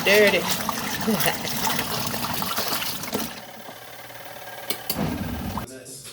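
Dirty water drains from a Zokop portable washing machine, a steady trickling splash over a low motor hum, loud and close at first, then quieter and thinner toward the end.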